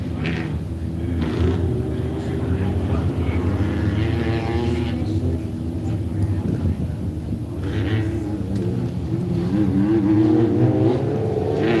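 A Class 7 off-road racing buggy's engine drones and rises in a steady, fairly loud roar at middle distance while a commentator talks over it throughout.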